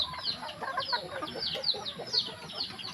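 Chickens at a small chicken farm cluck in quick, repeated bursts, fairly faint and steady across the short stretch with a soft farmyard background.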